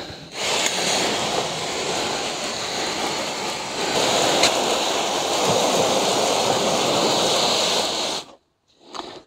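Water poured over chopped mind-your-own-business plant cuttings on compost in an old bathtub, a steady broad splashing rush that runs for about eight seconds, then stops abruptly with a brief final trickle.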